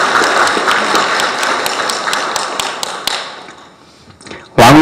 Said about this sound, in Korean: 새로운 삶을 열어가는 세상의 신혼부부에게 찬탄의 박수 부탁드립니다